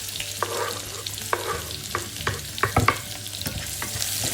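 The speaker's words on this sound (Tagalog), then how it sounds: "Igisa natin yung bawang." Garlic and onion sautéing in a pan, a steady close sizzle with repeated scraping stirs and clinks of a utensil against the pan, no voices.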